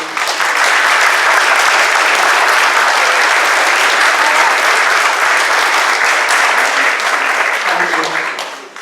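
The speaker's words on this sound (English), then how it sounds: "So we could please have a round of applause for them." Church concert audience giving a sustained round of applause, dense loud clapping filling the room for several seconds before tapering off at the end.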